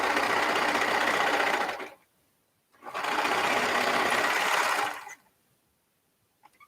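A sewing machine stitches fabric seams in two loud, steady runs of about two seconds each, separated by a short pause, then stops.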